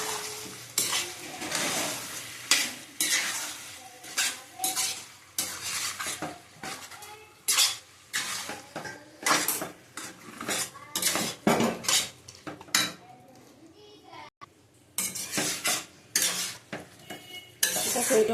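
Gizzard and liver frying in a pan with okra and poppy seed, a spatula scraping and clanking repeatedly against the metal in quick irregular strokes over a soft sizzle.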